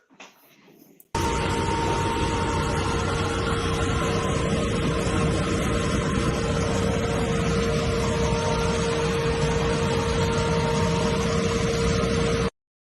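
A trailer-mounted vacuum pulling in trim runs as a loud, steady roar with a constant whine, starting abruptly after a brief faint lead-in and holding unchanged for about eleven seconds before cutting off.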